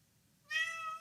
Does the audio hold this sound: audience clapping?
no